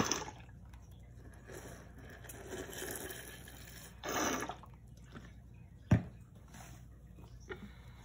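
Homemade moon sand made with baby oil is mixed in a quiet sensory activity: soft, scattered squishes and gritty scrapes, with a sharper thud partway through and no talking.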